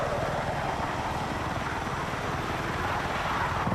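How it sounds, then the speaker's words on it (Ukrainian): A helicopter flies in Battlefield 6, giving a steady, loud rotor roar with a fast chopping pulse that stays constant throughout. "я зараз у грі, я просто на е, гелікоптері літаю"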